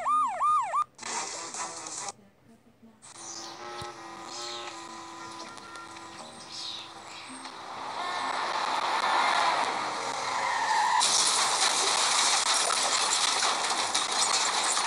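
Wailing ambulance sirens in the Family Guy video game, a rising-and-falling tone at the start, then a dense, loud wash of game sirens and noise building through the second half with no talking.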